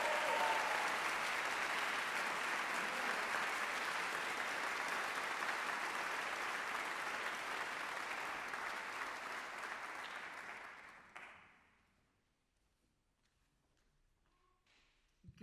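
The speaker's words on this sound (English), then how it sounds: "Can we give them a nice round of applause?" Sustained audience applause for high school honor band students at the University of Minnesota Twin Cities, dense and even for about ten seconds before fading out into near silence.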